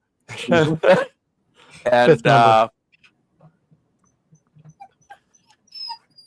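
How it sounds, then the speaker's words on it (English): A dog gives a few sharp, loud barks, then falls to faint, scattered whimpers and soft whines in a quiet room. "Oh, I hear a dog."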